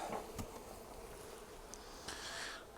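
Honeybees hum in a steady, close drone from an opened farm beehive, with a few brief knocks and a rising burst of buzzing near the end.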